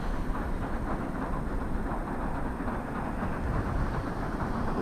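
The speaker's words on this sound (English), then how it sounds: "Here comes a pier train" A Southend pier train passes close by with a steady, heavy rumble and rolling wheel noise that holds at an even loudness throughout, with no voices over it.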